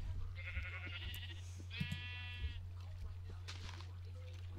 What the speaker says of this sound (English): Get out of the way, sheep.